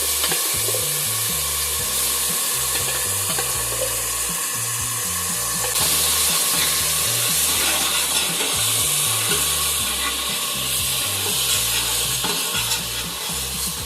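Ground onion, garlic, ginger and mint paste fries in oil in a pan on a stove, giving a continuous sizzle with stirring scrapes. It grows a little louder partway through and carries no talk.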